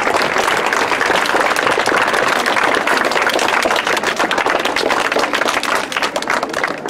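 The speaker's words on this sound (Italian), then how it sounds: "Un applauso, adesso." Loud, vigorous applause from a crowd gathered at a school ceremony dedicating a memorial garden with an olive tree, in Alcamo; dense, continuous clapping with sharp individual claps standing out, close by.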